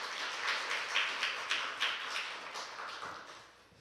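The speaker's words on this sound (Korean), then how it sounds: "귀한 말씀 읽어둔 우리 예림이를 위해서 힘찬 격려의 박수 해주세요" Congregation applause in a church during a Sunday worship service for a young reader, a soft scattered patter of clapping with a few louder bursts that fades toward the end.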